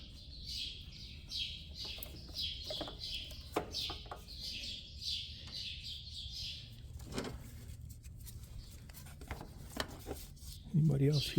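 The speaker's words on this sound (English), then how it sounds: "Anybody else hear birds?" Small birds chirp repeatedly in quick bursts at a moderate distance, along with some rustling and handling noises nearby.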